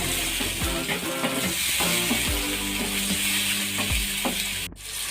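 Tomatoes frying with onions in a hot pan, a steady loud sizzle and hiss with repeated scraping stirs throughout.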